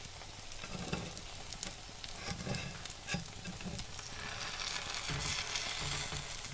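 A pancake frying in too much oil in a pan, with steady crackling and sizzling and occasional stirring or scraping sounds, fairly quiet and without talk.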